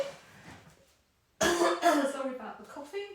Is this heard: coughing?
yes